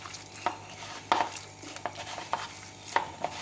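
Chicken drumsticks being stirred with soy sauce and chili sauce, heard as a series of soft scrapes and sharp utensil clinks against the bowl spaced about every half second, fairly close, with no talking.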